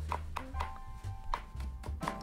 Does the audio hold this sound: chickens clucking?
no